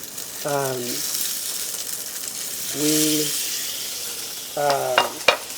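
Seasoned trout fillets sear skin-side down in a hot pan, giving a steady bright sizzle while someone talks briefly over it in short bursts.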